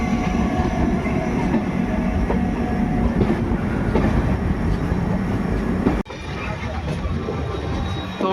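Lucknow Double Decker express rumbling steadily past a platform at Ghaziabad Junction, a loud continuous rail roar with faint clatter, cut by a sharp break near the six-second mark before the rolling noise resumes.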